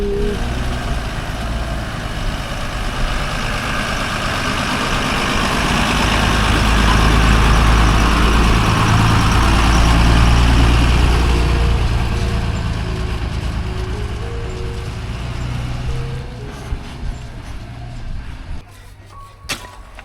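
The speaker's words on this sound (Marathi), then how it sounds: "इथे सगळं ट्रॅक्टर आहे बस पास होणार नाही ट्रॅक्टर मागे घेत आहेत" A tractor reverses on a narrow road as a loud, close diesel engine rumble swells and then eases, with a steady low throb and a few knocks near the end.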